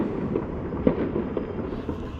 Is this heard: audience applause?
no